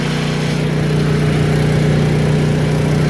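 Honda EU2000 portable generator running steadily with eco throttle on, a close, continuous mid-low engine drone with a smooth idle-like hum and no speech.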